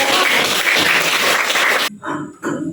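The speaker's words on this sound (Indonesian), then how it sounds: "Berikan aplaus untuk kelompok." A classroom audience claps for a student group after its presentation, a dense burst of applause that ends abruptly, followed by a few scattered sounds.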